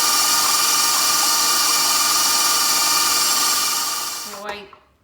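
An electric mixer beats pumpkin roll filling at medium speed until creamy, a loud, close, continuous whir that holds steady and then winds down and stops near the end.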